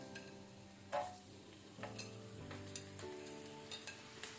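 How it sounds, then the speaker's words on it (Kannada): Garlic frying in sesame oil in a pan over a medium flame: a steady, close sizzle runs throughout, with light stirring scrapes and small clinks of a utensil against the pan, and no voices. "ಆನಂತರ ಗಾರ್ಲಿಕ್ ಬೆಳ್ಳುಳ್ಳಿ ಹಾಕೋಣ."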